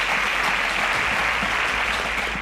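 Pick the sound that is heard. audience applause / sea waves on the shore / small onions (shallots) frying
audience applause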